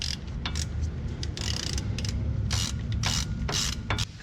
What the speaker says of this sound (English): We're going to tighten them back up with our T55.